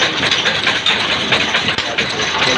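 A 20 horsepower electric motor drives a rice refinery machine, giving a loud, steady mechanical whir and rattle that runs on without pause and without voices.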